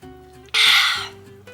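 Sparkling water gives off a single short burst of fizzing hiss, close and fairly loud, against quiet background music.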